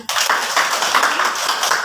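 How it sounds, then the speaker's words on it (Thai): Students in a classroom clap for themselves with a teacher, a dense, steady patter of many hands that starts abruptly and continues evenly for about two seconds, close by. "อ่ะปรบมือตัวเอง"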